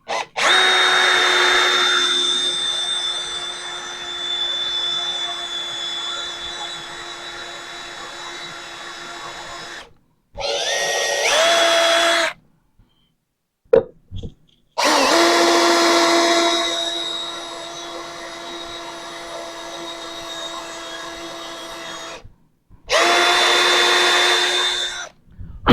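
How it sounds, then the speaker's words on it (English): A power drill whines in long, loud bursts while pre-drilling a hole in heavy, hard wood, stopping and restarting several times, its pitch dipping as it bites in. "I'm going to pre-drill a hole in this one."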